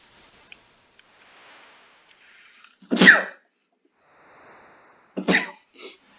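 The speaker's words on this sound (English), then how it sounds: "you got to listen to me sneeze twice" A person sneezes twice, two sharp bursts a couple of seconds apart, with a small trailing breath after the second, close and otherwise quiet.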